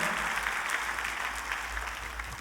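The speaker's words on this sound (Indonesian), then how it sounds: "Kita kasih tepuk tangan yuk yang meriah buat Tuhan kita" A church congregation gives lively applause for God, a dense, steady wash of many hands clapping at a moderate distance, continuous throughout with no talk over it.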